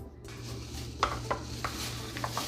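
Brown erythritol sweetener being stirred into a cinnamon roll filling mixture in a bowl, a few soft scrapes and light clinks of a utensil over a low steady hum, brief and close, with no talking.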